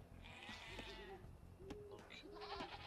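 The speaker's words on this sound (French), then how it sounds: "On va récupérer les chèvres qu'il y a là." Goats bleating in Age of Empires II Definitive Edition, several short nasal wavering bleats in quick succession over a low game background, fairly faint and brief.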